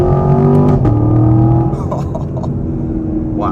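A Chevy Camaro LT1 engine pulls hard under throttle, its loud harmonic roar rising in pitch through a gear change, then settling into a lower steady drone as the car cruises on.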